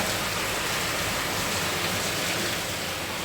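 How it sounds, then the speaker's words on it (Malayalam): Heavy rain pours down in a dense, steady roar, loud and close with no pauses or voices. "നല്ല മഴയാണ്"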